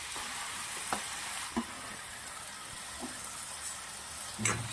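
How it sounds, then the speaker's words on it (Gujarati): Paneer pieces fry in hot oil in a kadai with a steady, close sizzle, broken by a few sharp taps and crackles as they are stirred. "તેલ ગરમ થઈ ગયું છે તો આપણે પનીરના જે ટુકડા છે નાખી દઉં છું"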